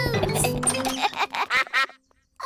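A cartoon duck quacks several times in a quick series, loud and close, the calls shifting in pitch before a short silence at the end.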